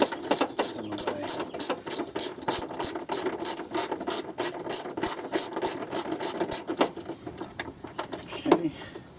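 A ratchet turns a 3/8-inch drive with a 10mm wobble extension socket to loosen a bolt on a Toyota Prius Gen II hybrid battery, giving rapid, close metallic clicking in quick bursts that stops near the end.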